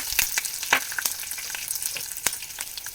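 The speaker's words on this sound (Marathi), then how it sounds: "त्याचबरोबर हा कढीपत्ता भाजून घेऊ" Curry leaves frying in hot oil for corn chivda, a close crackling sizzle with sharp pops and spits scattered over a steady hiss, and no voices.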